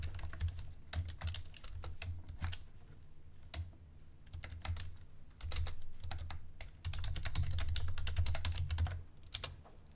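Typing on a computer keyboard during a live fabric-ornament pinning session, a steady run of close, crisp key taps in bursts with brief pauses over a faint low hum.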